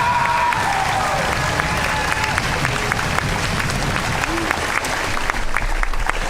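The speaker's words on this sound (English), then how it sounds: "Ladies and gentlemen, keep clapping." A large audience at a Polynesian club event in Hawaii claps steadily and loudly for a dance performance, the dense applause sustained throughout with some crowd noise mixed in.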